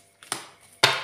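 A tarot deck is cut by hand, giving two quick papery riffles of shuffled cards, each a short bright burst that trails off, the second louder and closer, with a brief pause between them.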